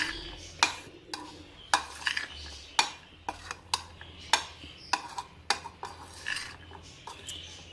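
A spoon mixing chana chaat ingredients in a bowl, with a quick series of sharp clinks and scrapes against the dish in an uneven, busy rhythm, close and clear with no talking.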